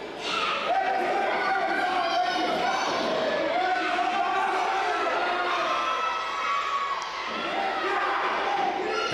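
A wrestling crowd at an indie show cheers and shouts loudly and continuously, many voices of children and adults roaring together, with a commentator talking over the noise.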